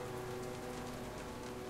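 Steady rain pours during a storm in the Telltale Jurassic Park video game, a dense, even hiss that stays loud and continuous with no voices over it.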